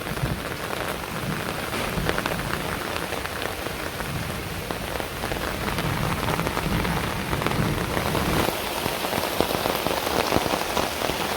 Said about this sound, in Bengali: এত দূরে বৃষ্টি নামছে